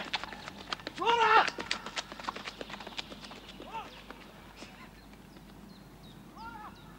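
A mare's hooves clip-clop briefly as she trots off toward a stable outdoors, fading into the distance while people call out and talk, with some birdsong and honking in the background.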